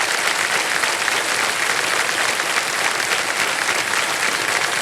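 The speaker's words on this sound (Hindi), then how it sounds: "तालियां बज जाएं इनके लिए।" A studio audience on the KBC quiz show claps in loud, dense, sustained applause that holds evenly throughout, with no talking.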